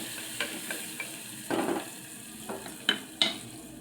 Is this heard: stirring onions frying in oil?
yes